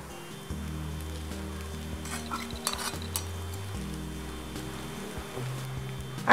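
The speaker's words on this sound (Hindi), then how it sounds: "फ्राई किया हुआ सीम डालिए" Fried broad beans tipped into a frying pan and stirred with chana greens and green chillies, giving a steady close sizzle with scraping stir strokes, a humming tone running underneath and a sharper clatter near the end.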